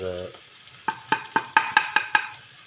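Cumin, crushed chili and fenugreek stirred and fried in a pot for chicken pot kaleji, giving a run of about eight sharp, evenly spaced scraping knocks over a soft sizzle, close and fairly loud.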